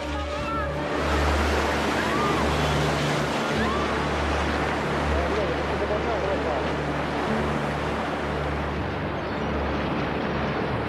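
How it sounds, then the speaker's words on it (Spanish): Tsunami waves surging along a coast in a deadly earthquake disaster, a continuous loud roar of rushing water throughout with deep low rumble. "Es una sucesión de olas que seguirán llegando durante muchas horas"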